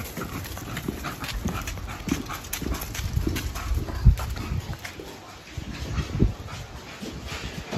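Dogs being brought indoors at a breeding kennel home, with paws clicking and scrabbling on the floor, light panting and shuffling, a few soft thumps, and faint background voices.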